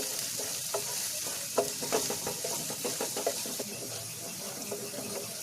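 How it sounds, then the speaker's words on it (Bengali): Soaked chana dal frying in a pan gives a steady, close sizzling hiss, with scraping stirs and small clicks of the spatula repeating through it. "এরপর আমরা দিয়ে দেবো ভিজিয়ে রাখা চানা ডাল, তারপর ওটাকে আমরা ফ্রাই করে নেব।"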